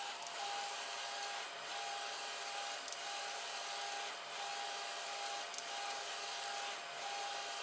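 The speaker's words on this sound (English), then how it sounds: "it was a stepper sending vibrations to it and making that horrible noise" A stepper motor on a machine with linear bearings sends vibration through them, producing a steady rasping, grinding drone with a faint repeating tone and periodic soft swells, close and continuous, with no talking.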